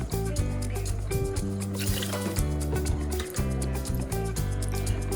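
Steady splashing and trickling as two cups of water are poured into a rice cooker pot, up close, over a constant backdrop of soft music.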